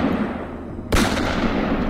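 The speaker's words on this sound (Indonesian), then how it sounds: "Lalu terdengar tembakan beberapa kali." A sudden loud gunshot burst cracks out after a quiet lead-in, followed by a sustained booming rumble, an audio drama sound effect of shots fired.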